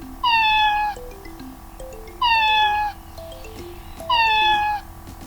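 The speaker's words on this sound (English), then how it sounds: "That's right, it's a cat." A cat meows three times at even intervals, each call loud, close and drawn out with a falling tone.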